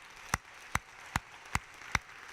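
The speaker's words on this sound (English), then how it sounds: "Let's give them a round of applause." Five sharp claps ring out alone at a steady, even pace, each a single crisp slap spaced about half a second apart.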